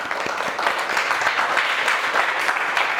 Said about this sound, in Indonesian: Oke, beri tepuk tangan untuk kelompok 3.